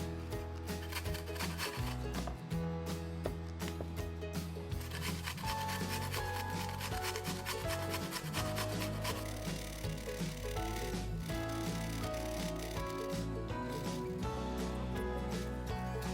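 Onion quarters rubbed against a grater, a close, steady rasping scrape repeating in even strokes, with faint music playing beneath.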